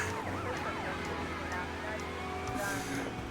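A police car siren in the game Grand Theft Auto Vice City rises and falls in wavering sweeps over a steady engine and traffic rumble, loud and close, with other game effects mixed in.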